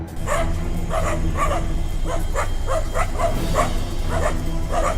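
Dogs bark repeatedly on a city street at night as lions pass through, a steady string of sharp barks and yips over constant loud background rumble, at moderate distance with no talk.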